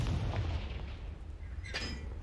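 A Confringo spell explodes in a video game, a low booming blast at the start that settles into a rumbling tail, with a brighter crackling burst near the end, heard alone without talk.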